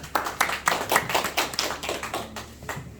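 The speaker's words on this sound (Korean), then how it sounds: "박수 한번 치고요." Audience clapping in unison at an indoor farming class on apples and fertiliser, a short burst of rhythmic applause from a small group, about a dozen even beats that fade out.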